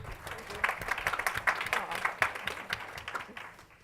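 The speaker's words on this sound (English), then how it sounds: "Let's give her a big clap." An audience at a Women in Tech evening claps for a panel host, a fairly brief burst of crowd applause that swells and then tapers off.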